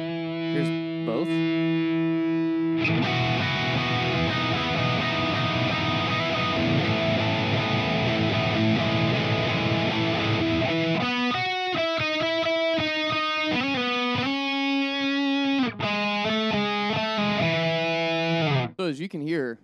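Electric guitar played through a Fender Tone Master Pro with two cabinets running in parallel, giving a thick, distorted tone: loud sustained chords for several seconds, then choppier note runs and bends to the end.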